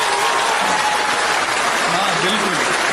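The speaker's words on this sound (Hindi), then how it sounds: "जोरदार तालियां।" Audience applause at a Hindi-Urdu poetry (shayari) recital, loud, dense and sustained clapping filling the whole stretch without a break.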